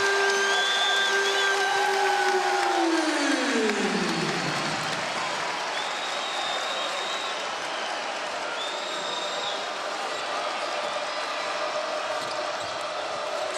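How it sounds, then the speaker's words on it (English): A basketball arena crowd at a Penn State versus Michigan NCAA game roars in a dense, sustained wash of cheering and noise, with a sustained horn fading out early and whistles sounding through the din. "Now, look, listen to the crowd now."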